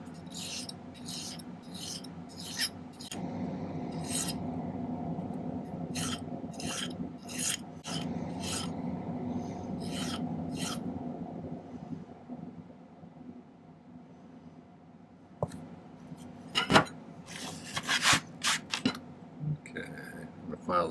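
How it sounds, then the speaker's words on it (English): A hand file rasping along silver wire spirals to taper them, steady rhythmic back-and-forth strokes up close for about fifteen seconds, then a few sharper, louder scrapes and taps. "I'm just going to kind of file these"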